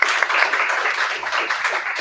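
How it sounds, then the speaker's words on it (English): Audience applause at a developer conference session on frontend performance, a steady dense wash of clapping held at even loudness for the whole two seconds with no distinct voices. "A big applause for both of them."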